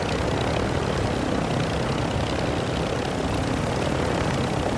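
A helicopter in a multiplayer video game roars with a loud, steady engine and rotor wash that stays constant and close throughout.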